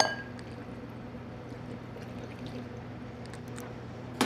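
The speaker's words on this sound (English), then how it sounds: "Go ahead and pour that over everything." Lemony chicken broth pours over chicken and onions in a pot, a steady close liquid stream with soft bubbling and splashing, with no talking until a clatter at the very end.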